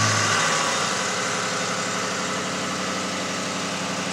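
Ford Mustang engine running at a steady idle, a loud continuous hum with a low rumble and slight vibration, close by with no talk; the start itself is not distinct.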